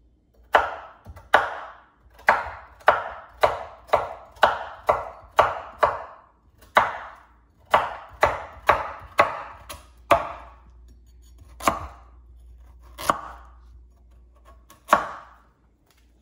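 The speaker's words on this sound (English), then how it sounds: "After you do that, you're going to do the same thing with the next carrot." Carrots chopped with a knife on a cutting board: a quick, even run of crisp, close chops, then a few slower, spaced strokes near the end, with no voices.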